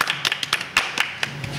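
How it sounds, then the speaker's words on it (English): A small group gives a brief, sparse round of applause, with individual hand claps clearly separated in a loose, uneven rhythm, close and fairly loud. "That was a very stately applause"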